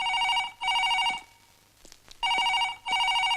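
A telephone rings in a home during a meal, in a film scene: two pairs of loud, bright double rings with a short silent gap between the pairs, heard alone and close.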